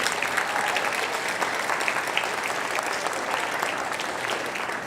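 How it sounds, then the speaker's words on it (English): Concert audience applauding a school percussion ensemble at a fall instrumental concert, a dense, steady wash of many hands clapping throughout, fairly loud and continuous with no break. "Let's give them another round of applause."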